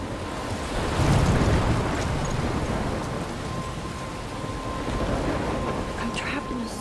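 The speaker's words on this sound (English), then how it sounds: "I'm trapped in a storm?" A rumbling thunderstorm with steady rain and gusting wind from the video game Life Is Strange, near a lighthouse, with a thunder roll swelling around the second mark and a continuous wash of rain throughout.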